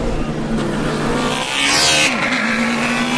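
An electric Formula Student race car passes on the track during an endurance event in Germany, its whine rising and sweeping past close by, with a steady drone of other track noise underneath.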